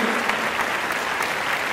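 A hall audience at an anniversary gathering claps together for a university in a short, dense burst of applause.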